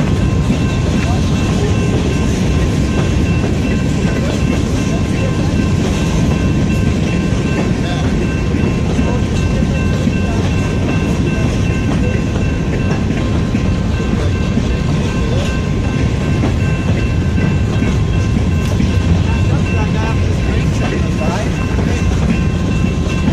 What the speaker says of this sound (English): Chasing CSX 8864 onto this grain train.